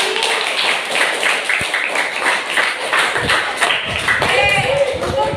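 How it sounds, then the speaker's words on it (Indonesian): A classroom audience of university teacher trainees clapping in a brisk patter, with speech heard over the applause toward the end. "Oke, beri tepuk tangan buat kami."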